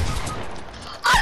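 Gunfire from a Fortnite match, a loud close burst near the end following fainter earlier shots, with no talk over it.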